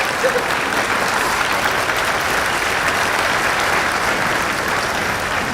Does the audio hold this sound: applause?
yes